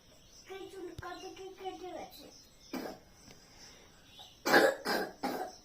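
A child coughing indoors: a few short, harsh coughs in quick bursts near the end, close by, after a stretch of a young voice talking, with faint insect chirps in the background.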